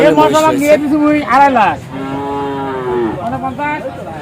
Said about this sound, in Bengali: জাতের শেষ নাই মহিষের, এত জাতের মহিষ রয়েছে এখানে।